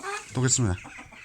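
A chicken clucks in a short burst of two or three clucks, close by, with faint background noise.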